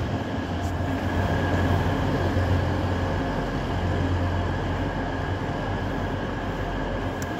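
A train idles or rolls slowly at Nottingham station, a steady low rumble with a constant mechanical hum and faint high whine, even and continuous throughout with no talking.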